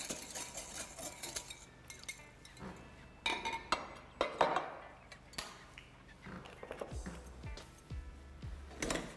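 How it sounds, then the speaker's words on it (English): A salt and pepper dressing whisked in a bowl with a metal whisk: rapid, irregular clinks and scrapes against the bowl, close and moderately loud, in bursts with short pauses. "I'll give that a whisk."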